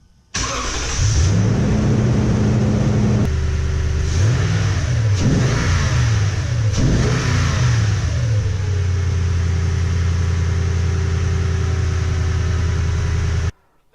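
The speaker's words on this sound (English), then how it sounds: "I'm going to go ahead and start the truck up" A 2018 Toyota Tundra TRD pickup engine with an aftermarket air intake cranks and starts, then revs up sharply three times in quick succession before settling into a steady, loud idle.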